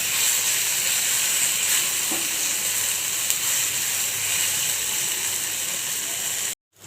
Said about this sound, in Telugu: ఇలా బాగా వేపుకోవాలి వంకాయ ముక్కలని